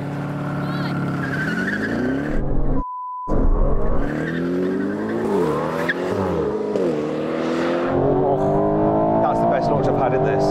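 Aston Martin Valkyrie, Vanquish and V12 Vantage launch side by side in a drag race, loud engines screaming up through rising gears with tyre squeal, after a brief cut to silence and a countdown beep.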